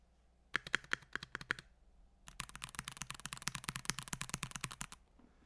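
Typing on a Mojo 68 mechanical keyboard, a few spaced clicky keystrokes followed by a long fast burst of crisp, close key presses, with no talking.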